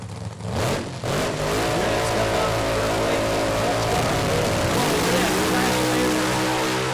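Funny car drag racing pass: a loud, close engine roars and builds steadily in pitch, filling the whole stretch with a dense, continuous howl.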